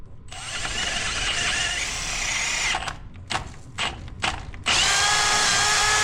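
A power drill bores a 5/8 inch hole, running at a steady high whine for a few seconds, then stopping and starting in short bursts, and finally revving back up loudly and continuously close to the microphone.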